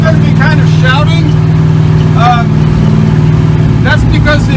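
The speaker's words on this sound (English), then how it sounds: "That's because the exhaust system consists of these cherry bomb bullet mufflers." Loud car engine with cherry bomb bullet mufflers droning steadily in first gear from inside the Wreck Runner, a heavy low rumble that never lets up, with someone shouting over it throughout.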